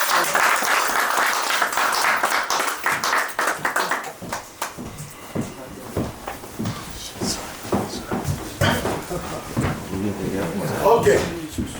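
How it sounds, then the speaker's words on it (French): A crowd applauds at a customary wedding ceremony, a dense, loud roll of clapping that thins into scattered individual claps, with people talking throughout. "Est-ce qu'on peut applaudir pour ça d'abord?"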